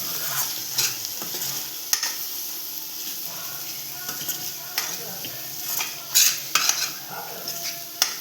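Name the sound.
stirring spices into sev bhaji in a pan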